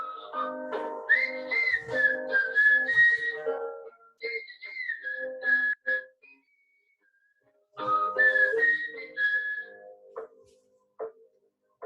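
A person whistles a short cheerful looped tune, a bright melodic run of notes with a brief silent gap near the middle before the phrase resumes.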